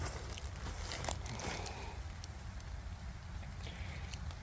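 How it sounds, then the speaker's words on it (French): Light rain falls in a forest, a faint, steady patter of drops on leaves and ground with a few slightly sharper ticks, constant throughout with no voices. "C'est pas de la grosse pluie pour le moment en tout cas"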